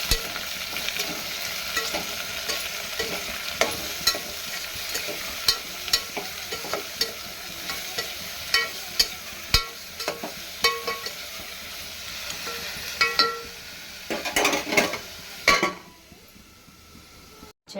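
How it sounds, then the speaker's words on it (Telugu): Mutton curry with tomatoes and salt cooking in a pan on a stovetop, giving a steady low sizzle with stirring scrapes and occasional clinks of a utensil, continuing for most of the span before falling quiet near the end. "టమోటా సిమ్లో పెట్టి స్టవ్ ఒక 5 నిమిషాలకి మగ్గిద్దాం"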